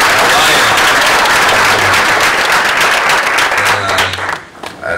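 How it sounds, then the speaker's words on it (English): An audience at a speaking event bursts into a dense, loud round of applause that holds steady and then thins out near the end. "Please give him a round of applause."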